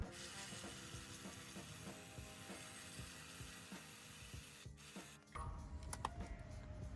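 A 13mm socket works a bracket bolt loose on a Ford Bronco, giving quiet ratcheting clicks and scraping metal rubs in a steady rhythm, then a short pause and a few sharper clinks near the end.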